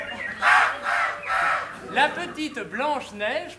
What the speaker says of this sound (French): alors que les oiseaux chantent et que les renoncules sortent de la terre printanière